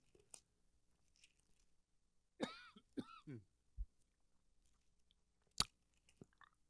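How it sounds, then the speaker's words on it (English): A man coughs in a quiet room, a few short separate bursts with throat-clearing sounds between long pauses, close and fairly loud. "I know it's irritating to hear me cough"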